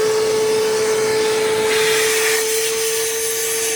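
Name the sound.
vacuum sucking out clogged AC drain tube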